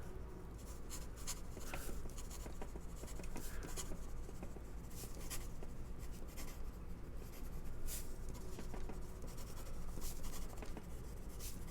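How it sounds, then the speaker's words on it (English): A Lanbitou 3059 budget demonstrator fountain pen scratches quickly across paper, a continuous close scribbling texture with short rhythmic strokes and small pauses over a steady background hiss. "Let's do some fast writing, see how it does."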